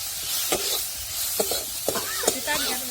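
Spoon stirring chopped onion and tomato into a sizzling masala for a mixed vegetable bhaji, with several sharp scraping knocks against the pan over a steady frying hiss.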